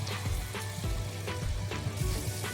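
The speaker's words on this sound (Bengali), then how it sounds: "এবার ভালো করে একটু আলুগুলোকেও লাল লাল করে ভেজে নেবো" Potatoes fry in hot oil with nigella seeds and green chillies, a dense close sizzle with soft crackles and scraping stirs, no talk.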